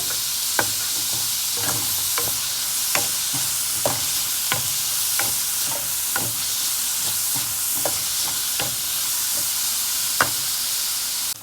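Onions sautéing with salt in a pan, a continuous frying sizzle broken by regular sharp knocks and scrapes of a spoon against the pan, close and steady, no voices.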